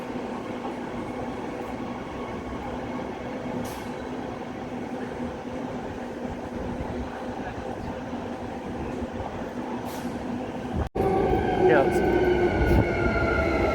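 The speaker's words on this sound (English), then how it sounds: "that's this is a train heading to the airport" An airport-bound train on Perth's rail line hums and rumbles steadily nearby for the whole stretch, with a sharp break and a louder rolling surge near the end, while people talk over it.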